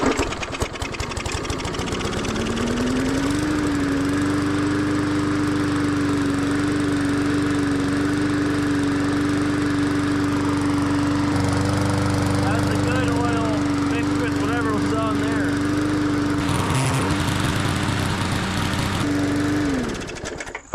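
An old push lawn mower, recently overfilled with oil, starts and runs loud and close with a steady droning engine note that rises in pitch and holds, then drops off near the end.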